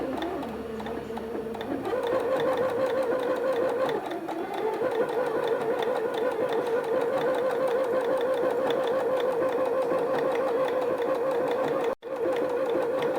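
A domestic sewing machine runs steadily, stitching cloth with a fast, even mechanical whir and rapid ticking throughout, loud and close, broken only by a brief stop near the end.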